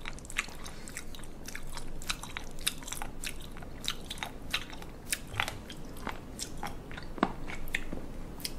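Someone at close range chews firm, crunchy raw sea cucumber, producing rapid repeated wet crunches and bites in an uneven steady rhythm with no talking.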